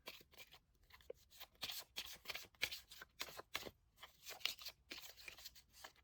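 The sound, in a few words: shuffling tarot cards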